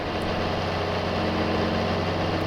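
A tractor engine idles steadily in gear in Farming Simulator 22, set in 1970s-era straw harvesting, giving a constant low diesel rumble with a steady throb and no speech over it.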